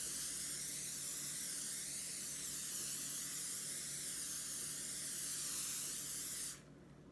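A close, steady hiss of a spray bottle misting challah croutons lasts about six seconds before stopping abruptly.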